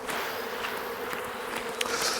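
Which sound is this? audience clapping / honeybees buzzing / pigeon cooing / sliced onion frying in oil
honeybees buzzing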